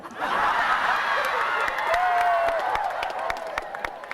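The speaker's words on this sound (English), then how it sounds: "Everybody, clap for me." An audience claps in a steady, moderately distant wash of applause, mixed with a few chuckles and murmurs, holding for several seconds before tapering into scattered claps.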